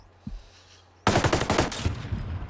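MK48 Compact machine gun firing in Ghost Recon Breakpoint, a near, loud rapid burst of automatic shots that starts abruptly after a quiet second and rattles on for about a second and a half before trailing off.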